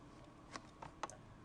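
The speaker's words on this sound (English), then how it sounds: "Right now I'm gonna move my machine with the computer keyboard" A few faint, separate clicks of keys on a computer keyboard, tapped to jog a CNC machine in Planet CNC TNG software, in an otherwise quiet room.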